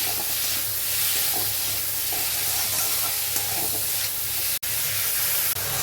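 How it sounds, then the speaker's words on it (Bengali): Spices for a Bengali small-fish curry with potato and eggplant frying in a pan, a steady close sizzle with scraping stirring strokes throughout and a couple of brief sharp knocks near the end. "মশলাটা দিয়ে ভালো করে কষিয়ে নিচ্ছি"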